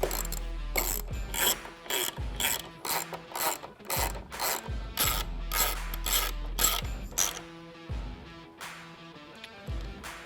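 A hand ratchet tightens a T30 Torx bolt on the vertical window retainer of a 2-door Bronco Trektop. It makes rapid, close clicking bursts in repeated strokes with brief pauses, and no talk.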